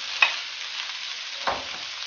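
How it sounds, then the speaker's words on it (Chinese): Bullfrog stir-fried with scallion, ginger and small chili in a wok, giving a steady loud sizzle with two brief scraping stirs of the spatula. "油少点的是葱姜小米椒倒进去，炒香后倒牛蛙，"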